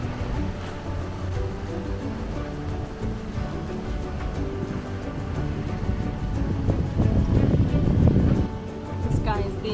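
Wind gusting over a sailboat at sea in the Mediterranean in about 10 knots, a steady broadband rush with low rumble that swells louder toward the end, water and hull noise mixed in, with people talking over it.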